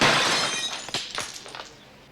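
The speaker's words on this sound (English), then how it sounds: "Just breaking windows" Glass windows break in a sudden crash, followed by a scatter of tinkling, shattering fragments that fade out, heard alone with no talk.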